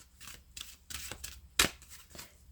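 Tarot cards being shuffled and tossed down, a series of soft papery riffles and flicks with one sharper slap, close and quiet with no talking.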